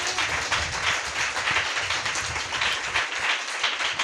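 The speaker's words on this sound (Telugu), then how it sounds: "గట్టిగా చప్పట్లు కొట్టు" A church congregation claps loudly at a service, a dense, rhythmic wash of hand claps that continues without a break from start to finish.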